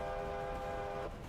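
Locomotive whistle in the Railroader train video game: one steady, sustained tone lasting about a second, then cutting off, quiet and heard alone.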